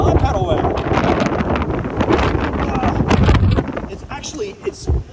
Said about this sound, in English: We'll get out of the tunnel, into the wind.